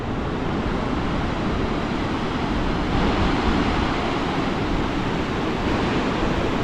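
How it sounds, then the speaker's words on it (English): Water rushes toward a waterfall in Iceland as a loud, steady broadband roar, close and unbroken from start to finish, with no talk. "Here's all the water rushing to it."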